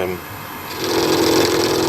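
A metal lathe takes a cut with a boring bar while machining a fixed steady head in a home workshop. A steady mechanical whine swells partway through, and a person talks over it.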